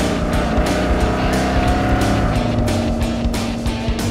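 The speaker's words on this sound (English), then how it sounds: "The motor is based off of a 351 Windsor, and it's stroked out to 427 cubic inches." An off-road crawler powered by a stroked 427 Windsor V8 built from a 351 Windsor, a loud, close, rumbling engine with shifting pitch and bursts of throttle, no talking.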